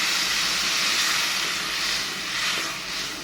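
Tomato sauce sizzles and hisses steadily in a hot pan after lightly sautéed onion, a loud continuous broadband fry with no talking.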